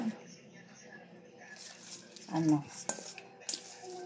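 Kani salad ingredients are tossed together in a bowl, giving soft clinks and scraping of utensil against dish with a wet squish, fairly quiet and close, while someone talks over it.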